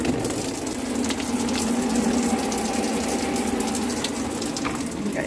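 Water running from a bag camp shower hung in the northern woods, a continuous, even splashing flow without pauses, fairly close and steady throughout.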